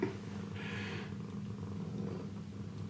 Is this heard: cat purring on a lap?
yes